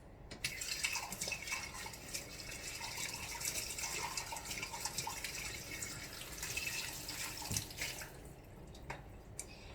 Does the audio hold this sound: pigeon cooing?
no